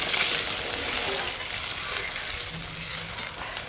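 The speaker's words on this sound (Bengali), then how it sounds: "মাছটা সুন্দর করে কষায় নিছি" Deshi koi fish sautéing in oil in a pan for village-style tel koi gives off a steady, close, fairly loud sizzle and hiss that carries on without a break and with no talking.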